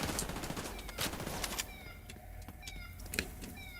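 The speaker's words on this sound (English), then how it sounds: "What the fuck is that alarm? It sounds like a cat." A repeating electronic alarm in a video game, with a whining, cat-like tone, cuts through heavy gunfire and explosions and keeps sounding steadily over the battle noise.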